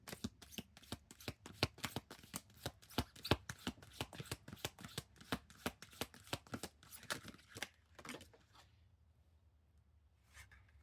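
Tarot cards being shuffled close up, a steady run of quick crisp riffling flicks for about eight seconds before a pause and a final soft shuffle, with no talking.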